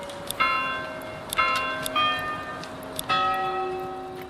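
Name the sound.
off-pitch church bell from video game Manor Lords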